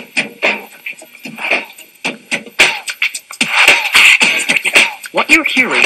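Someone beatboxing, a voice imitating drum sounds: sharp percussive clicks, puffs and breathy hits in a quick, uneven groove mixed with vocal noises, close and fairly loud.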